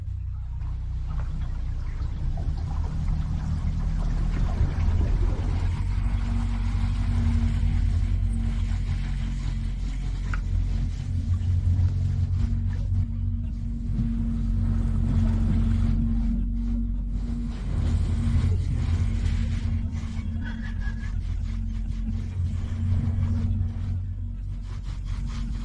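Boosted electric boat running at full throttle, a loud steady low hum and drone on the water that holds for the whole stretch, with faint voices in the background.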